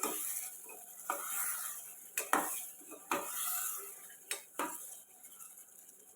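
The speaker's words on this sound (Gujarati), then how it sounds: "બરાબર મિક્સ કરી લેશું." A spoon stirs masala through a brinjal curry in a metal pot, giving soft scraping strokes and a few sharp clinks against the rim over a faint sizzle, with no talking.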